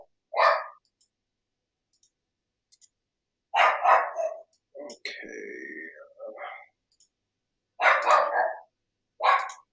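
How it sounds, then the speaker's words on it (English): Dogs barking indoors in several separate short bursts, close by, with a person speaking briefly between the barks. "Sorry, my dogs are barking because they're stupid."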